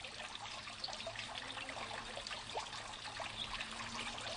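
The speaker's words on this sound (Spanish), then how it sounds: "El susurro que produce el agua" Water trickles steadily from a fountain in the ruined cloister of the Bujedo monastery, a faint, continuous soft splashing and gurgling with no voices.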